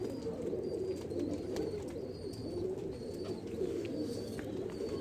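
Pigeons coo repeatedly in soft, rolling calls, fairly close and continuous over a low background murmur.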